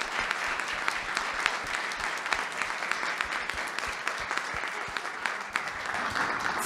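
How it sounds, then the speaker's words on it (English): Audience at a book talk claps warmly and steadily, a dense patter of many hands with sharp individual claps standing out, continuing without pause and no voices on top. "Stop applauding."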